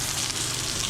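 Chicken frying in a pan for chicken parmesan, a brief, close, continuous sizzle with a dense crackling hiss and no talking.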